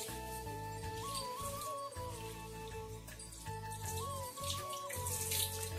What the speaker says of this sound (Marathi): कोब्यावरती पाणी मारायचे